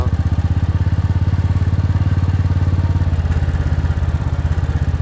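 A motorbike rides through villages in Wayanad, its steady engine drone loud and close, pulsing evenly for the whole stretch with no talk.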